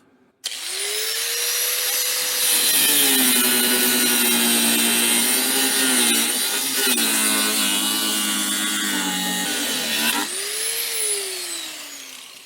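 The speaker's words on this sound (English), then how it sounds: "let me get my cut off wheel. We'll cut that off." Cut-off wheel grinding through a seized nut on an 81 F-100, a loud sustained high whine that dips in pitch as the disc bites, running unbroken for about ten seconds before spinning down.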